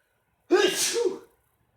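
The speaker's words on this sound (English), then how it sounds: "Uh-oh, got a sneeze coming." A single sharp sneeze, close and loud, with a quick intake before the burst, then silence.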